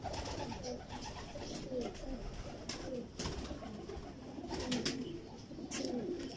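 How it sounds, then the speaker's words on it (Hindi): Pigeons coo softly in repeated low, throaty calls, several birds close by, with light shuffling and rustling between the calls. "पेपर चेक करें इन कबूतरों का"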